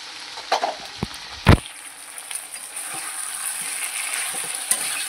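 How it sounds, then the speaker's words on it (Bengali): Frying sizzle from a pan of Bengali chicken curry as potatoes go in and water is poured over, opening with a few sharp knocks and a short burst, then a steady hiss with no voices. "তো চলো এবার আলুটা দিয়ে জলটা ঢেলে দিই।"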